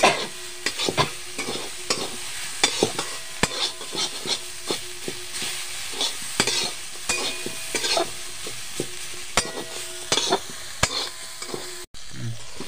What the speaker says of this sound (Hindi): मसालों को अच्छा से भूज लिए